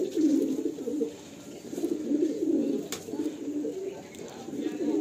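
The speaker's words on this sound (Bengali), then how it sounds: "খুব সুন্দর লাগলো পায়রাটা" Pigeons offered for sale in Kolkata coo in soft, low, rolling phrases that repeat almost continuously. The cooing is close and steady, with no voices over it.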